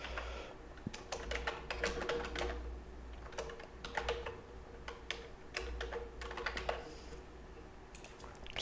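Typing on a Nordic computer keyboard: a steady stream of light, irregular key clicks with brief pauses, fairly quiet and close, with no voices.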